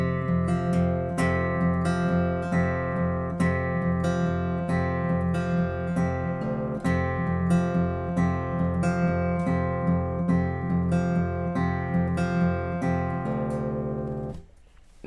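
Acoustic guitar picking the intro of a song, a steady, rhythmic run of plucked notes over ringing low strings, repeated in two passes and played solo up close until it stops.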